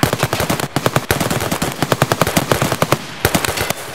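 Video game gunfire: rapid, loud bursts of automatic weapon shots in quick rhythmic strings, with short pauses between volleys, close and dominant throughout.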